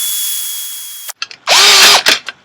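Power drill biting into a solid metal box for a variable-voltage build: a steady whine, then a short gap and stuttering bursts before a loud, rising grinding whir as the bit cuts through, close and harsh.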